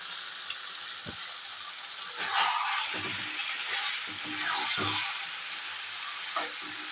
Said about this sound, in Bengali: এখন চিকেনটা একদম সিমে করে ধীরে ধীরে কষা চলবে।